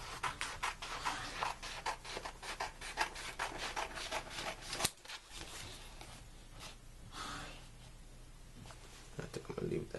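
Material for a workout set is cut by hand with rapid, rhythmic rasping strokes, close and steady, pausing briefly midway before a slower stretch of rubbing and a few more strokes.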